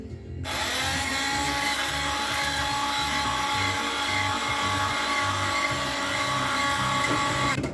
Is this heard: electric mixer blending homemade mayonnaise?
yes